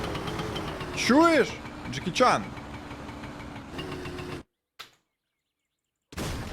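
A moped engine in the video game My Summer Car idles with a steady hum and rising revs, under a man's speech; the sound cuts out briefly near the end.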